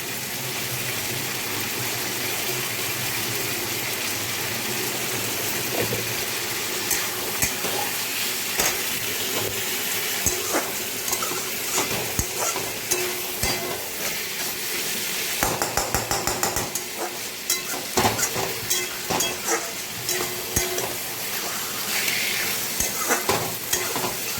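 Pointed gourd and sour curd sauté in a pan, with a loud, steady sizzle and repeated scraping, clinking stirs that grow more frequent toward the end.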